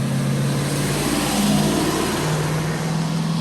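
A car turns and accelerates on a wet downtown street, its mid-pitched engine hum rising steadily and staying close and fairly loud, with rain hiss underneath.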